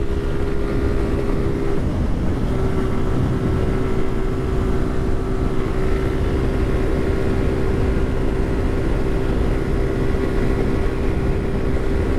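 Suzuki Gixxer 155 Monotone motorcycle at top speed, a steady loud drone of engine and rushing wind noise throughout with a sustained high engine tone.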